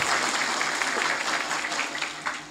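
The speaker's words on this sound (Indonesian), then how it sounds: "Tepuk tangan untuk Pak Tinggi dan nikah." An audience at a live Islamic religious gathering in Jambesari, Bondowoso claps in a sustained dense burst of applause lasting a couple of seconds.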